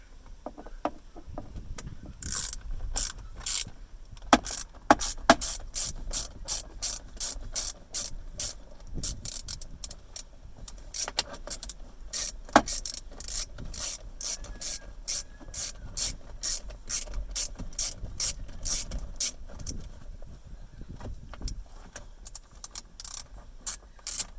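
A hand ratchet fitted with a 13mm socket clicks in quick bursts of rapid pawl ticks, close and crisp. The bursts are separated by short pauses during work on a Mahindra Scorpio Pik-Up S6+ cab, with no talking.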